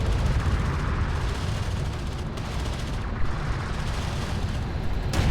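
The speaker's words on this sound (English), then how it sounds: "Hostile railguns have opened up" Heavy railgun fire in the sci-fi strategy game Homeworld: Deserts of Kharak, a dense, continuous barrage of booming shots and blasts that stays loud throughout, with no voices.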